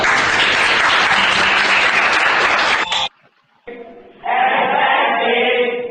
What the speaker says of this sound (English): Could we please clap for her?